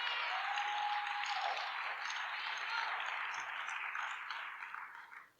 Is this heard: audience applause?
yes